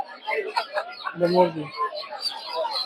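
Chickens cluck and murmur close by amid busy chatter from several people talking at a Saturday poultry market selling local ducks, chickens and quail.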